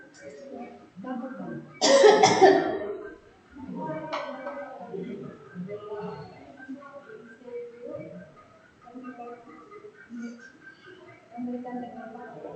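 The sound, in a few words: patient coughing, effective cough technique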